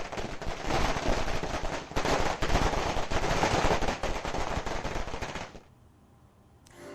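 Dense, rapid crackling of firecrackers going off continuously for several seconds at a political celebration in Uttarakhand, India, loud and close, then stopping abruptly.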